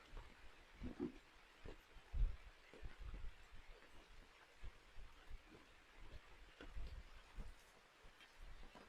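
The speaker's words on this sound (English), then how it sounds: "Well, I bet y'all can hear that rain now." Rain falling steadily on a dispersed campsite in North Central Arkansas, a soft continuous patter with occasional louder drops and bumps, fairly faint and close, with no one talking.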